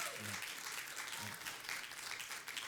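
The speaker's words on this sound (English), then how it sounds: "Big round of applause for that." An audience at a book tour event applauds in a loud, continuous wash of clapping, while a voice speaks briefly underneath.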